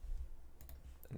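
A few sharp, faint computer mouse clicks come in quick succession against a low, quiet room background, with no talking.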